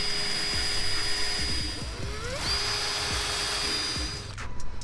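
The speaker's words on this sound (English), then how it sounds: "I am going to drill a small pilot hole for myself just to make it a little bit easier" A power drill bores a small pilot hole in a car, its whining motor rising and falling across a few short runs with clicks and knocks between, close and alone without talk.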